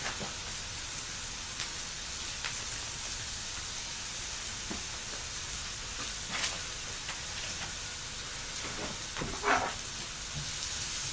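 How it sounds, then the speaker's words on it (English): Onions, garlic and chilies fry with a shake of hot madras curry powder, giving a steady low sizzle with a few brief louder crackles and spits, close and alone. "the curry powder cooked with the onions and the garlic and the chilies"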